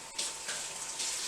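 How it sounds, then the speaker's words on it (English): Cold water running from a tap over a hand during pizza dough making, a soft steady gush with slight splashing changes as the hand moves under the stream, faint and brief. "One of them is to just rinse your hand under cold water."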